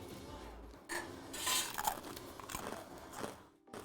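A crunchy crouton is bitten and chewed alongside grapes and spinach, giving a few sharp close crunches followed by softer chewing and small clatters, with no talking.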